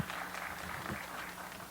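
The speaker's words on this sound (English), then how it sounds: "So a round of applause for the folks who are with the media today." An audience at a public health event applauds the media attendees, a steady wash of many hands clapping together at an even level throughout.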